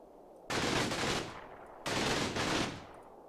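Gunfire in the strategy game Final Blitzkrieg comes as two separate bursts of harsh, noisy blasting, each lasting about a second and fading away, heard fairly quietly with nothing else around it.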